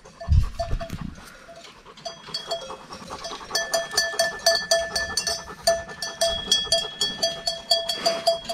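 Cattle in a pasture with metal bells clanking rhythmically as they move, close by, plus a faint low animal call near the start.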